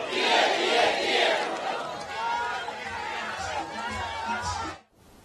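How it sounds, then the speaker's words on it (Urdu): A large crowd at a Pakistan Peoples Party rally shouts and chants "Bhutto" slogans together in loud, overlapping waves, fading abruptly at the end. "نعرے نعرے نعرے بھٹو۔"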